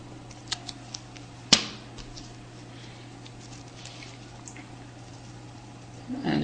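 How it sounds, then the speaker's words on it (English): Scissors snip through foam tape while building a toothbrush bristlebot science kit, one sharp loud cut standing out among a few faint clicks and handling sounds in a quiet room. "So I'll just cut the foam tape."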